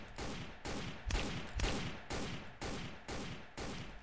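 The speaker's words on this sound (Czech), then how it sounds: "Kam jako střílíš, brácho?" Repeated long bursts of automatic gunfire in the video game Sneak Thief, about eight in a steady rhythm with short pauses between, a couple hitting with heavier low thumps.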